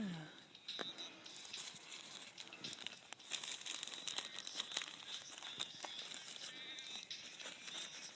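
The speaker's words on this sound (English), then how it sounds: "I'm cutting this line so I can make an addition" Crinkly crunching and snipping of a plastic drip irrigation line being cut in a home container garden, several close rustly bursts with a voice talking through it.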